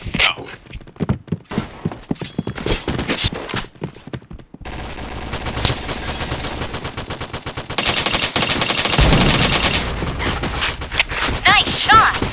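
Rapid video game gunfire, with bursts of automatic shots and single cracks, loud and close, mixed with in-game sound effects, with chatter in places.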